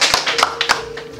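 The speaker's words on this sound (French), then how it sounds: "on applaudit notre ami Jérémy." A short burst of several claps from children at a school, sharp and close, with a slightly uneven rhythm, as from a small group clapping briefly.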